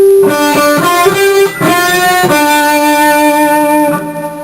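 An electric guitar slowly plays a riff from a song, plucked, ringing notes with a slightly driven tone, each note sustaining into the next.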